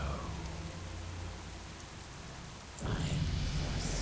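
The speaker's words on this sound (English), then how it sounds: "It looks like a rainy day here." Steady rain falls across a World of Warcraft landscape as a soft, even hiss that swells a little louder near the end.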